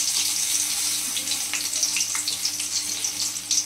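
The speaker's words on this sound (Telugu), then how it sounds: "బజ్జీలు వేయడం అయితే నాకు చాలా భయం, కానీ వేస్తున్నాను." Bajji fritters fry in hot oil with a steady, close hiss and crackle, with light bubbling pops and no voices.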